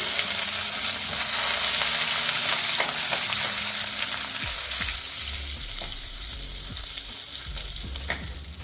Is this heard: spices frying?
yes